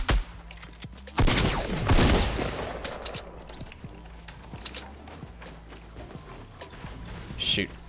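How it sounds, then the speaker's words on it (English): Rapid bursts of gunfire are exchanged in the battle royale video game Fortnite, with dense overlapping shots and sharp cracks that rise to a loud flurry before settling into steady, scattered firing. "Lots of shots being exchanged."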